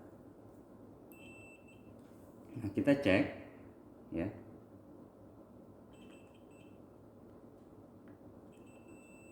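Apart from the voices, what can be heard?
multimeter beeping in continuity buzzer mode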